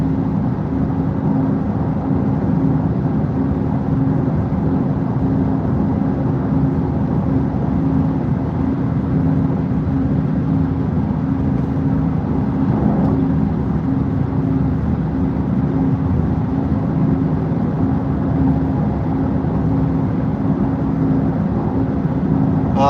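Inside a Porsche Taycan Turbo GT with the Weissach pack cruising the Autobahn at night, a steady low road and wind drone fills the cabin, constant and fairly loud, with no voices.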